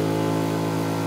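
Lambretta scooter fitted with a SIP Nordspeed touring exhaust, running in second gear at about 1800 revs, giving a steady, even engine drone with a strong low hum.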